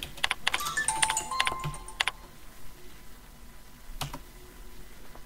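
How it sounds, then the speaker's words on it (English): Rapid clicking of typing on a computer keyboard while editing text on a MoonFruit website, a dense burst of keystrokes at first that thins to a few isolated taps, close and fairly quiet with no talking. "And I can just keep on typing if I wanted to."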